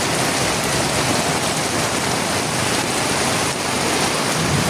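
Steady, dense rain pours over a flooded road outside a shop during the rainy season, a continuous loud hiss with no letup and no voices.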